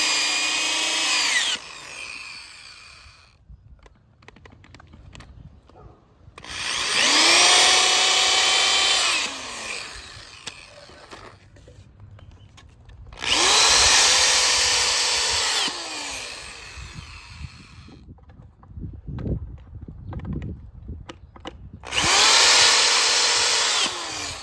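A power drill driving deck screws into wood for a DIY compost sifter, four separate whining bursts each a few seconds long, rising and falling in pitch, loud and close with quiet pauses between.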